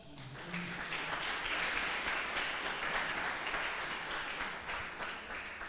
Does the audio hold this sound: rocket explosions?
no